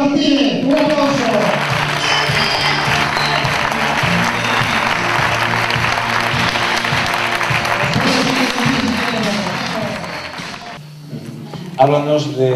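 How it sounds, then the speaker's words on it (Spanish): An audience gives sustained applause at a tribute event, dense clapping that swells and holds for about ten seconds before fading, with voices rising briefly near the end. "Manolo Martínez, un aplauso."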